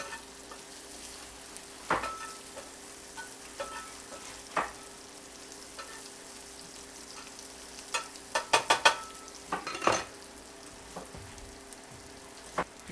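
Onions and garlic frying in butter in a pan, a soft steady sizzle punctuated by scattered utensil clinks and scraping stirs, with a quick cluster of taps near the end.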